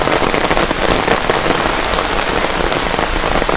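Heavy rain pours steadily, a loud dense hiss of drops striking surfaces that continues without a break.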